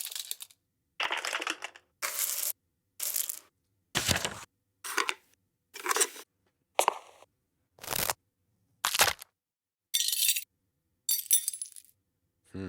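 Glass objects clink and knock in about a dozen separate bright hits, each short and crisp, spaced roughly a second apart with silence between, recorded close as found-sound material for beat making.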